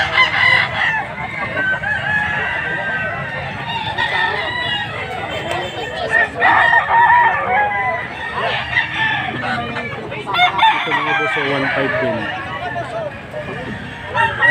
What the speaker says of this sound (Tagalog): Bilihan ng mga manok.